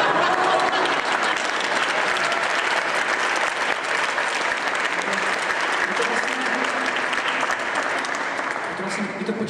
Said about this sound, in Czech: Takže ještě krátký potlesk pro první čelo